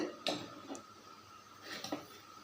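Mustard seeds splutter in hot oil with a few sharp, scattered pops and crackles, fairly quiet and close, no voices.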